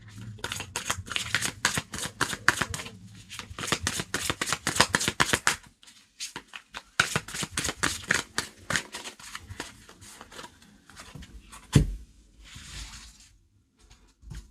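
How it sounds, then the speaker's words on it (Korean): Tarot cards are shuffled and spread on a table in a steady, close run of riffling and soft flicking, with a brief pause midway and a sharp tap near the end. "한번 카드 펴보도록 하겠습니다"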